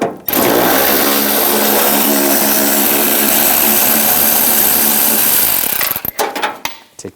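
An impact tool drives a 10mm socket to remove a fender bolt on a 2011-2018 Ram 1500, a loud, continuous buzzing rattle for about six seconds, then stopping into a few clanks and handling knocks.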